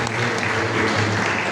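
A church congregation breaks into applause during a Sunday service, a loud, close wash of many hands clapping steadily for the whole brief moment, with no talk over it.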